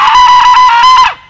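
A person screaming loudly during horse desensitization training: one sustained, piercing, high-pitched scream lasting about a second, very close, then cutting off abruptly.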